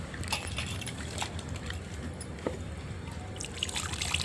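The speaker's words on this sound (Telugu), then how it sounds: "చింతపండు పులుసు పోసింది ఫ్రెండ్స్." Tamarind juice poured into a fish curry of large chapala fish, giving a soft, close trickle and splash with light clinks over a low background hum.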